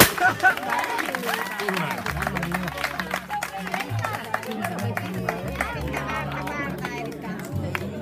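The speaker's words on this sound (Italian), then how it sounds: "Un super applauso." Wedding guests clap and cheer for a newly married couple, a crowd applause mixed with chatter and excited voices, while people talk close by over it.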